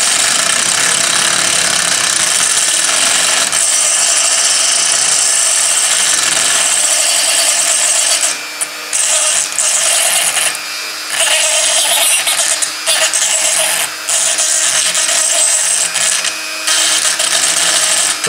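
A power tool whirs loudly and continuously, spinning a tin toy crane part like a lathe, with a steady high-pitched grinding drone that briefly dips and surges a few times.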